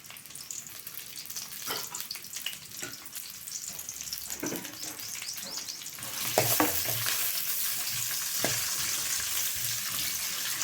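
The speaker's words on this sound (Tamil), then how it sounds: "இப்போ எண்ணெய் காஞ்சிருச்சு, வெங்காயம் போடணும்." Onions sizzle and crackle steadily in hot oil with curry leaves, with occasional stirring and clinking, growing louder partway through.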